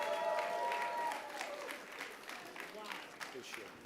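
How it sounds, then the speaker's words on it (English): Audience applauding at a conference workshop session, a broad, fairly soft spread of many hands clapping that thins out toward the end, with a voice talking briefly over it at the start. "Ladies and gentlemen, please keep clapping."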